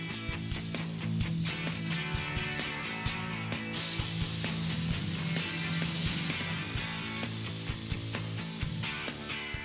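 A spray gun applies U-POL Raptor black bedliner coating, its steady hiss of air and spray lasting a few seconds mid-clip, surrounded by clicks, rattles and small mechanical handling noises.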